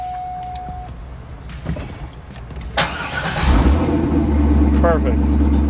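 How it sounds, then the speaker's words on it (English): A Chevrolet C5 Corvette engine cranks and fires up, settling into a loud, steady low rumble after a few small clicks and rustles. "Start the car."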